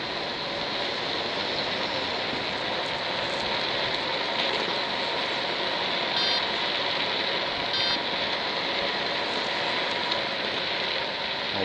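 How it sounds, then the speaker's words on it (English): Light drizzle falling outdoors, a steady dense hiss of fine rain that stays even and continuous throughout, fairly loud and close, with no talking. "It's starting to drizzle."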